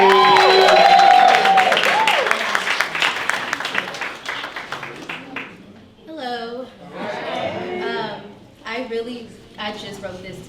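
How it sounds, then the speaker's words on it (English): Applause and cheering from an audience at a spoken-word culture event, loud at first with whoops, then fading as someone speaks over the tail. "I need y'all to start clapping right now for Leon Janae."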